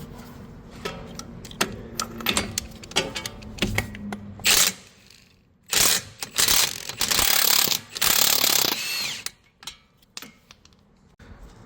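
Ratchet wrench working a front strut bolt loose on a Cadillac ATS, sounding in several close, loud bursts of rapid clicking separated by short pauses, with no talk.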